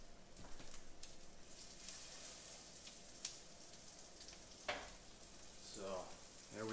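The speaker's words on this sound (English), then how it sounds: "2 salmon cakes sauteing up nice." Two salmon cakes sauté in a pan with a faint, continuous sizzle and crackle, broken by a couple of sharp clicks and a brief voice toward the end.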